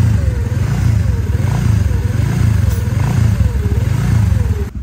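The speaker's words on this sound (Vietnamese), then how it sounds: "cái tiếng hú đấy là do mâm lửa nó gây ra nha" A running Honda Winner motorcycle engine with a burnt clutch hums close by with a rhythmic, wavering whine rising and falling over its steady rumble.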